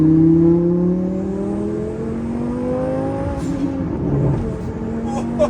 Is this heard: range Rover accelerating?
yes